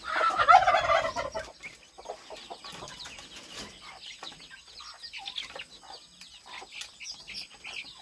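Pet turkeys on a farm, near newly hatched birds, gobble in a loud burst at the start, then quieter bird calls and clucks scatter through the rest.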